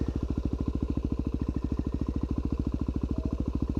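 A Yamaha WR250R single-cylinder dirt bike engine running with the clutch held in, a fast, even, close thumping pulse that holds steady throughout.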